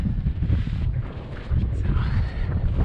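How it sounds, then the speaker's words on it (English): Strong wind buffets the microphone on the summit of Mount Washington, a loud, gusty low rumble that surges and eases continuously for a few seconds. "alright, it's still windy."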